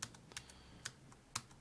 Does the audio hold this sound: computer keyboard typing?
yes